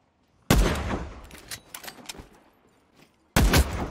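Gunfire from the PvP shooter game The Cycle: Frontier arrives as two loud bursts of rapid shots, one at the start and one near the end, with quieter scattered shots and clatter between them.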